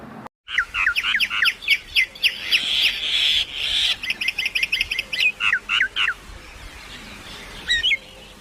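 A common myna calls in a rapid series of sharp, chattering whistles and squawky notes, repeated in bursts with short gaps, loud and close, alone without any talking.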